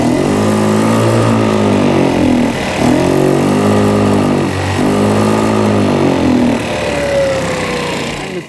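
A Kymco scooter engine with its air box cover removed, revving hard and high in a loud, continuous drone that rises and dips in a few rolling waves of revs, close up, with no voices.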